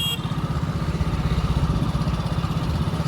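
A motorcycle engine running steadily nearby, a loud rhythmic low-pitched putter with a fast even pulse throughout and no speech over it.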